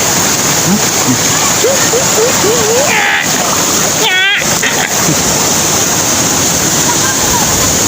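Steady, dense rush of river water splashing over slippery rocks fills the whole stretch, with family voices calling out briefly over the constant roar.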